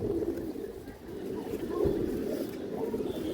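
An old male Khora Gola (Sapchira) pigeon cooing, a low, soft, murmuring coo rising and falling over faint background noise, with no clear talk.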